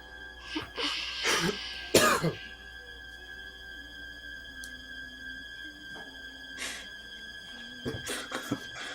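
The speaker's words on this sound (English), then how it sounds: "Somebody coughed" A couple of coughs and throat clearing near the start, followed by quieter sounds and another faint cough later over a steady electronic hum.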